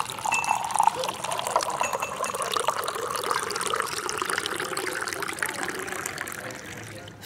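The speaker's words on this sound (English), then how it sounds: "You pour him a cup of coffee." Coffee is poured into a cup in a steady liquid trickle lasting several seconds, at moderate level under a faint background hum.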